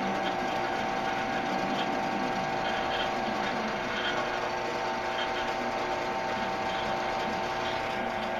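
A drill fitted with a 1/4 inch bit bores into knife steel, giving a continuous, even mechanical whine and grind that holds steady throughout at close range.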